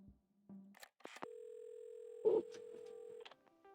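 A telephone dial tone sounds in the video game Assemble with Care, a steady tone held for about two seconds after a few soft handling clicks, briefly interrupted by a bump.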